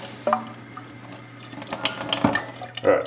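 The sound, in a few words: wetting a sponge under the sink tap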